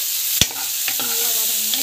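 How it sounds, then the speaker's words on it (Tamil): Garlic and onion sauté in a pan with curry leaves and a little chana dal, making a loud close sizzle broken by a sharp utensil clack and brief scraping stirs. "பூண்டு, வெங்காயம் நல்லா வந்து வதக்கி வச்சுக்கோங்க."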